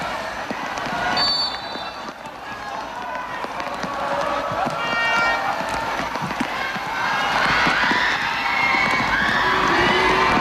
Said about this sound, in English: Indiscriminate shrieking for no apparent reason there in the background, Darren.